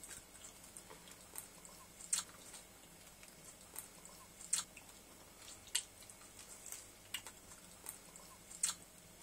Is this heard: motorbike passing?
no